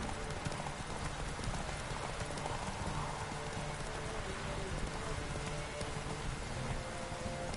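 Roach the horse gallops in The Witcher 3, with fast, continuous hoofbeats under a dense, rain-like wash of ambient noise. The level stays steady the whole way through.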